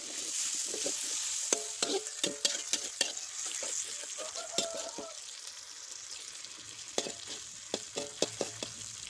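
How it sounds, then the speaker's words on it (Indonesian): Sambal stirred and fried in a pan, a steady sizzle running throughout with repeated sharp scraping and clinking strokes of a utensil against the pan, close and fairly loud. "Kita aduk-aduk guys, goreng sampai matang guys."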